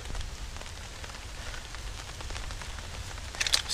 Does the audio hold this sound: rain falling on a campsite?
yes